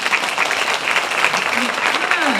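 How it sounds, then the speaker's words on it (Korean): At a social welfare council talk concert, an audience claps steadily in encouragement, a full, close wash of applause with voices mixed in underneath. "여러분께서 힘이 되는 격려의 박수 한번 좀 보내주셔야 됩니다"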